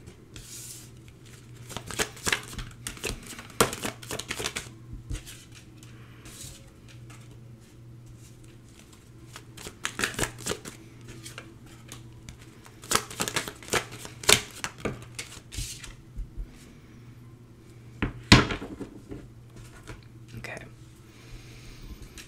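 Tarot cards being shuffled by hand in several bursts of quick riffling and flicking, close and crisp, separated by quieter pauses while a voice talks softly in between.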